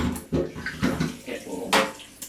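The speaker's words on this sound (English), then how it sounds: "if I turn this tap," Water gushing from a thermostatic shower bath bar mixer tap into a bath, close and fairly loud, in uneven surging bursts of splashing with a faint clink or two.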